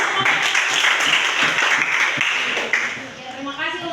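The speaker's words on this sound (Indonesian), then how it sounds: "Tepuk tangan dulu." Sustained applause from a class group fills the room, broad and steady, fading slightly near the end as a voice comes through.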